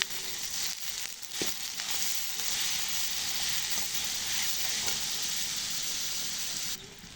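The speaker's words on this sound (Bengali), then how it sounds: "এখানে আমি পেঁয়াজ কাঁচামরিচ রসুন সব ভেজে নিচ্ছি" Onion, green chili and garlic sizzle steadily in oil in a pan, a close, continuous hiss with a few soft stirring scrapes near the start.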